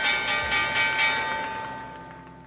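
A bright bell rings at the stock market opening, struck in a quick flurry of loud metallic strikes early on, then left ringing as a steady tone that slowly fades.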